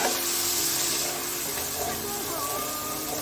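Basil paneer green chilli chicken ingredients frying in oil, giving a continuous dense sizzling hiss close by with faint voice traces underneath.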